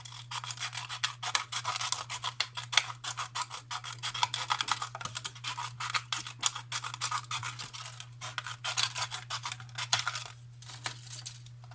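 A large plastic bottle being cut by hand, a faint close run of rapid rasping, scratchy strokes with a steady low hum beneath; no talking.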